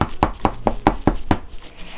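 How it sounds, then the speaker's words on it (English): A heavy knocker bangs on a large cave door in a run of about six sharp, evenly spaced knocks, close and loud, with no voice over them. "She took hold of the knocker and banged on the door."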